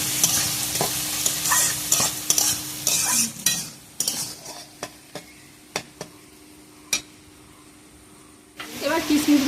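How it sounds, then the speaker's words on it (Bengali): Cashew nuts stir-fried in a pan with ghee, a sizzling hiss under repeated scraping and clinking strokes of a spatula, busy at first, then thinning to sparse taps before the sizzle swells again at the end. "কাজু বাদামগুলো একটু ভাজা ভাজা হলে কিশমিশটা দিয়ে নামিয়ে নেবো"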